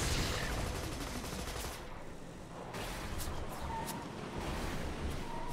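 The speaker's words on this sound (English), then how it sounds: "I'm being shot by something," Gunfire in Borderlands 2, a dense, continuous volley of shots close by with no pauses, filling the whole stretch without talk.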